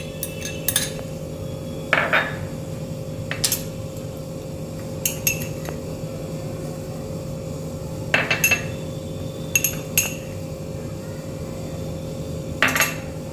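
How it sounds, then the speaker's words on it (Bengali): A spoon scrapes and clinks against a bowl as mustard paste is mixed with pomfret fish, producing sparse, sharp metallic taps over a steady background hum. "আর এবার আমি সম্পূর্ণ উপকরণগুলো আমি একসঙ্গে ভালো করে মিশিয়ে নেব।"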